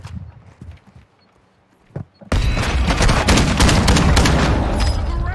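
Rapid bursts of KV shotgun fire in the shooter game Warzone 2 erupt after a quieter stretch of a few sharp reports, then keep up as dense, loud, continuous firing and impacts.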